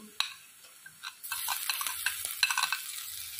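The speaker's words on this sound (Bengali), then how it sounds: "মাছটা দিয়ে আমি হাই ফ্লেমে একটু নাড়বো" A piece of fish is stirred in a hot pan over a high flame: sharp utensil clicks and scrapes tap irregularly, then a loud sizzle swells up beneath the stirring.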